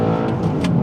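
An Audi R8 drives on a road after rain, its engine note a steady mid-range hum with light revving, close and continuous through a brief moment.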